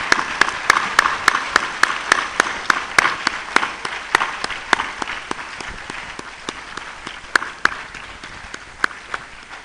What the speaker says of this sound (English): let's give a coordinated round of applause to all the members